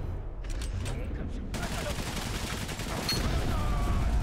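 Machine gun fire in Valiant Hearts: The Great War, a dense rattling fusillade of rapid shots that runs steadily for several seconds amid other battlefield noise, with someone talking faintly underneath.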